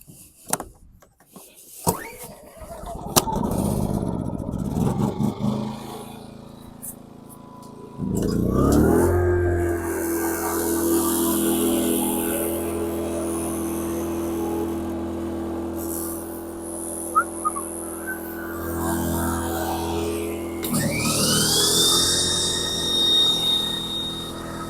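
A Power Horse generator starts after clatter and handling noises, then runs with a steady loud hum as an air compressor kicks on, drones for several seconds, pauses briefly, and starts again with a rising whine.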